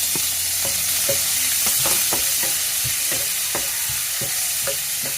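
Garlic and onion sauté in a pan with ginger while balbacua is being made. The sizzle is steady and close, and spoon scrapes and clicks repeat throughout. No one speaks.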